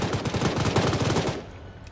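Rapid, loud burst of heavy 12.7 mm machine gun fire from a BTR armored vehicle in the video game Arma 3, 1970s Cold War setting, firing steadily for over a second before cutting off into a short fading echo.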